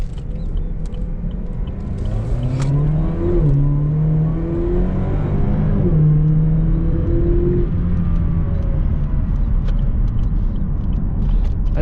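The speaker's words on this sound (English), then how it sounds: "And here's just a little acceleration." A 2020 Chevrolet Camaro LT convertible with a 275-horsepower four-cylinder accelerates hard, its engine rising in pitch through several gear shifts, loud and close with no talk.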